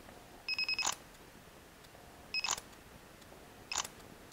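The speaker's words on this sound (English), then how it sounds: "That's the mechanical shutter." Mechanical shutter of a Panasonic Lumix DMC-FZ1000 bridge camera firing three times, each a crisp close click with a short whirring burst, spaced about a second and a half apart in a quiet room.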